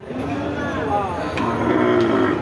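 Native-breed cattle at a busy cattle market, with a low, drawn-out bovine moo rising over a steady murmur of crowd voices and market bustle.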